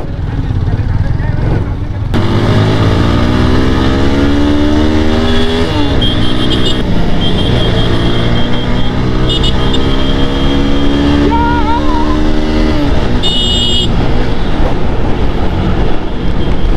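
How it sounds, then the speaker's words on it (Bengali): A Suzuki Gixxer 4V motorcycle on a group ride holds a loud, close engine drone whose tone rises and falls with the throttle, and people talk over it. "bike Gixxer 4B"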